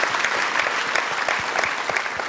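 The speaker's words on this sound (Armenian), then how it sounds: "մեր ծափարությունները եւս մեկ անգամ ձեզ" Studio audience applause on an Armenian talk show, a steady dense clapping that fills the whole stretch with no voices over it.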